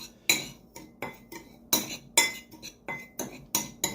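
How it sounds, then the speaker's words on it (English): A utensil stirs a breading mixture for grilled chicken wings in a bowl, giving a steady run of light metallic clinks and scrapes against the bowl's side, close and fairly quiet, with no talking. "Let's stir that up real nice."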